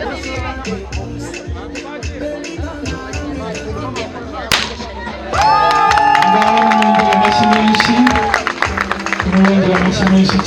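Guests at a wedding celebration clap and cheer, the crowd noise thin at first, then swelling louder partway through as music or sung voices join. Scattered talk runs alongside the applause.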